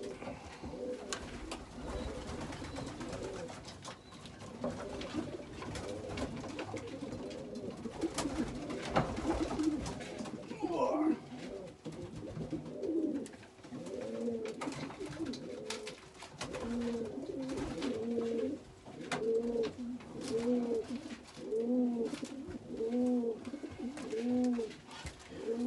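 Pigeons coo steadily and rhythmically throughout a loft where newly ringed squabs are being handled, the throaty calls overlapping at close range, with occasional brief human speech mixed in.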